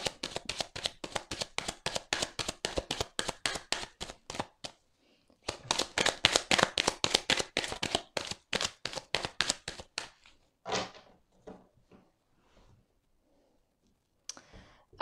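Belline oracle cards being shuffled, quick runs of crisp riffling clicks in bursts with short pauses between, close and fairly quiet, and no voices.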